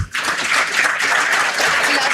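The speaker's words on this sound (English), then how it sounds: "Welcome Gopal Singh Rajput to the PIBM campus with a huge round of applause" A conference audience on a business school campus applauds a guest embassy trade official, a dense, steady burst of clapping that starts abruptly and stays loud and close.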